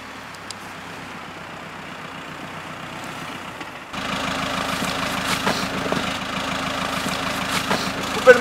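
A car engine idles with a low steady rumble, quiet at first and then noticeably louder and nearer halfway through, holding a constant hum with faint background noise.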